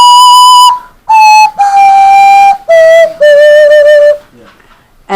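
A handheld mouth whistle toy blown across with a wiggling tongue gives loud, bright sustained whistled notes in several separate phrases, sliding slightly in pitch with short breaks between.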